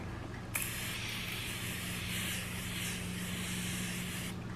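A continuous close fine mist of makeup setting spray hisses onto a face for about four seconds, starting abruptly and cutting off cleanly, over faint background hum.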